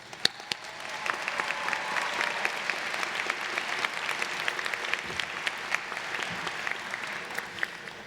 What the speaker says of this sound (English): join me in a round of applause for her